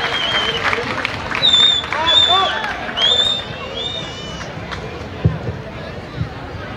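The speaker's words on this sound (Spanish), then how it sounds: "fuerte el aplauso para la banda del Colegio Simón Bolívar de la ciudad de Cúcuta" Crowd applause and cheering for the Colegio Simón Bolívar school band from Cúcuta at a band festival in Villa del Rosario, a steady wash of clapping and babble with some whistles and shouts over it, moderately loud and continuous.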